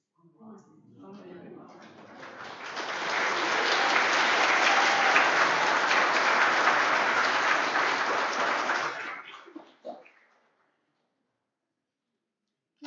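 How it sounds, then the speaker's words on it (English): A congregation at a synagogue service breaks into spontaneous applause that swells from scattered claps into sustained, dense clapping for several seconds, then tapers off into a few last claps and silence. "those spontaneous applause are meant for you"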